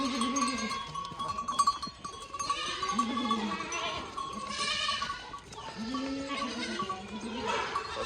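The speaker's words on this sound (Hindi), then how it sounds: "ये बकरियाँ है भाई, देखो। ठीक है, बच्चे वाली बकरियाँ हैं सारी।" Goats, mostly nannies with young kids, bleat repeatedly on a Rajasthan goat farm. Overlapping calls rise and fall close by throughout, over a steady farmyard background.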